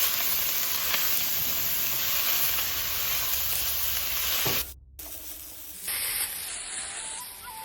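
Shrimp for fried rice hit a hot pan and sizzle, a loud steady hiss that cuts off for a moment and then carries on more quietly, with no talk.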